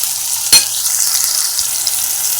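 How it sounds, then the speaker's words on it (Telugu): Onions frying in a pan with curry leaves added while cooking a cauliflower egg curry, a loud continuous sizzle with one sharp crackle burst near the start, no voices. "ఆనియన్స్ బ్రౌన్ కలర్ వచ్చేంత వరకు వేయించుకోవాలండి. ఇందులో కొంచెం కరివేపాకు వేసుకోవాలి."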